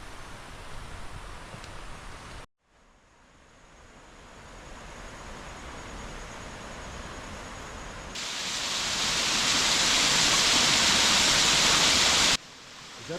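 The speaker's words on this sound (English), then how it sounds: "Is that the first waterfall you've ever seen in Costa Rica?" A waterfall in a Costa Rican rainforest, a broad steady rushing roar that cuts out briefly and returns, growing louder and brighter as if approached, with no talk over it.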